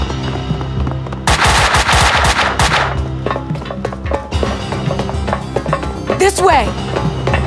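Gunfire from the video game Max Payne 2 hammers in rapid automatic bursts with loud crackling shots over a game soundtrack, and characters speak in between.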